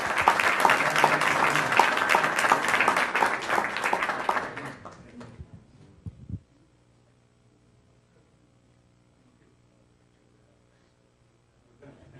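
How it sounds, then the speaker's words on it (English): Applause from the audience at a city council meeting in Menifee, steady dense clapping for about five seconds that thins out and stops, followed by near silence with a faint hum. "One more round of applause."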